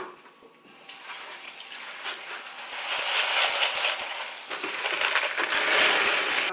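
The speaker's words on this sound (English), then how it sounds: "I'm going to go ahead and rinse my leca." Water pours over and rinses LECA expanded clay balls in a container, giving a steady close splashing wash with faint rattling of the clay pebbles, growing fuller and louder partway through.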